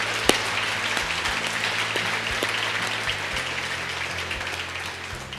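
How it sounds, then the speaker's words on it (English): An audience applauds steadily at a mayor's event in Memphis, a sustained wash of clapping at moderate level with a low hum underneath and no speech. "let's give them a round of applause."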